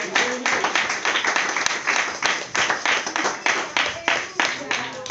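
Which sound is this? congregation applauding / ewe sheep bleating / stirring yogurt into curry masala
congregation applauding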